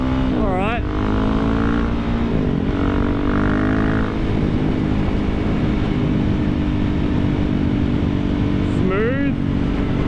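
KTM 690 single-cylinder motorcycle cruising at freeway speed, its engine drone loud and steady under rushing wind, with a rider's voice rising briefly at the start and again near the end.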